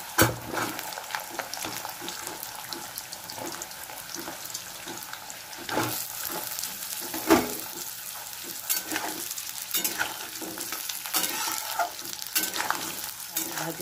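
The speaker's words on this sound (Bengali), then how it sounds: "আলুগুলো ভেজে নেব একটু হালকা করে।" Potatoes fry lightly in hot oil with cloves, a soft continuous sizzle broken by repeated scraping and stirring strokes of a spatula and a few louder knocks against the pan, close up.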